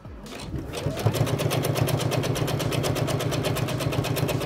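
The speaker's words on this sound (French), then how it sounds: "là, je vais le faire à la machine" A sewing machine stitches a fabric gift pouch, running in a steady, fast, even rhythm close by after a brief start, with no pauses.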